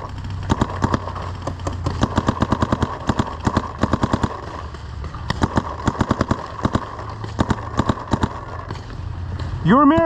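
Rapid bursts of paintball gun shots at an outdoor paintball field, sharp clustered pops in quick volleys spread across the clip, with people talking throughout.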